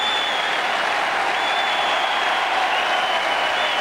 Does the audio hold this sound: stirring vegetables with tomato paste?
no